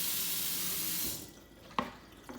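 Tap water runs steadily into a measuring cup, a continuous close hiss that stops after about a second, followed by a couple of faint knocks.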